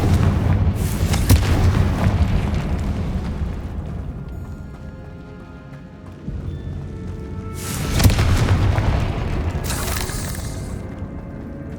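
In the video game Hogwarts Legacy, the Confringo spell explodes with deep, rumbling booms, a big blast early on and another heavy burst later, each trailing off into low roaring.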